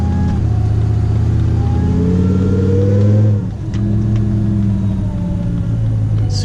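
Supercharged, 1000 HP-rated built engine in a Dodge Ram SRT revving hard with the exhaust dumps open, a loud, deep rumbling roar that swells, briefly dips, then holds steady close by.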